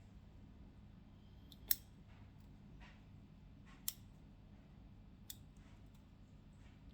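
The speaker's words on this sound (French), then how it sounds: "Et après, je vais mettre à 3 feuilles." Pruning scissors cut a bonsai elm back to three leaves, three sharp, isolated snips spaced a couple of seconds apart in a quiet room, each fainter than the last.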